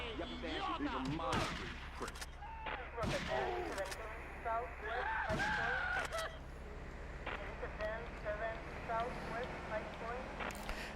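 Video game gunfire crackles in bursts over continuous synth music and game sound, with a person talking over it at times.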